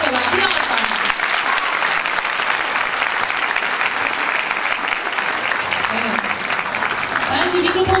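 Sustained audience applause fills a Turkish music concert hall, a dense, steady wash of clapping that stays loud and even for the whole stretch.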